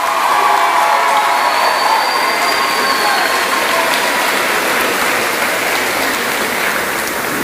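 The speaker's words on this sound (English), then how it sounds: "Let's give those people a round of applause." A large crowd at a high school celebration claps in a thick, continuous roar of applause that stays loud and even throughout, with a faint tone drifting over the noise.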